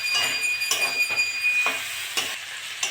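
Cauliflower and potato sautéing with spices in oil, a continuous close sizzle punctuated by several rhythmic scraping stirs of a spatula against the pan, no speech.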